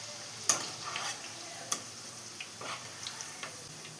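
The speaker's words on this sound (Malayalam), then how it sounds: "ഇനി നമുക്കിത് ഓയിലിൽ നിന്ന് മാറ്റാം" Soy chunks fry in hot oil for a Kerala-style soya roast as they are lifted out of the pan, a quiet steady sizzle broken by a few sharp metallic clicks and scrapes of the utensil.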